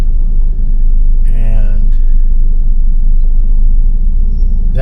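Car interior in heavy, chaotic city traffic in the Philippines: a steady low engine and road rumble with a brief air-brake-like hiss midway, under a voice speaking briefly.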